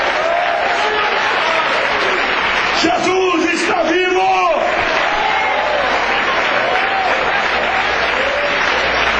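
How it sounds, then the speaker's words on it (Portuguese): Congregation applauding during a Portuguese-language church sermon, with dense, steady clapping that fills the room, while cheers and shouts rise over it and a preacher's voice cuts in briefly near the middle. "aplauda o nome de Jesus"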